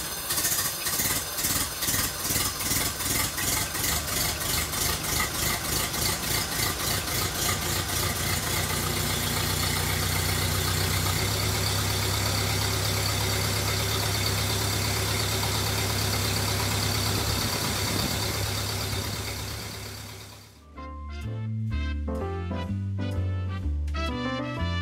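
A 1929 Ford Model A Roadster engine runs with a close, steady, rhythmic chug that holds for about twenty seconds, then drops away as music takes over.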